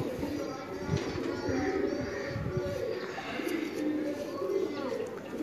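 Racing pigeons at a loft in Lahore coo in low, repeated throaty rolls close by, while people talk over them throughout.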